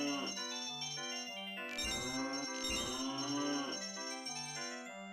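Cow mooing sound effect in the video game Zelda: Ocarina of Time, two long low moos standing out over looping game music with bright chiming notes, heard fairly quietly and alone.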